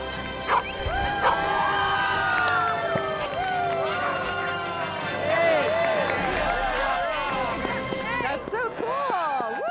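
A crowd gathers in Times Square around performing dogs, with constant dense chatter, shouts and whistles throughout, plus a dog barking and yipping near the start and end; people talk loudly close by.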